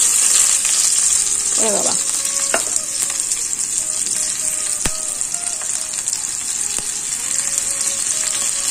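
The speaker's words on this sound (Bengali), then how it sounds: "তো এখানে আমি তেলটা বসাই দিলাম। প্রথমে পেঁয়াজ কুচিটা দিয়ে দিতেছি।" Chopped onions sizzle in hot oil in a frying pan, a loud, close, continuous crackle with a few soft clinks and a brief exclamation from a voice.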